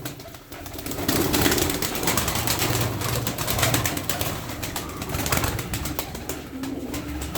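Tumbler pigeons in a loft coo steadily, with a low continuous murmur of many birds and occasional wing flutters close by.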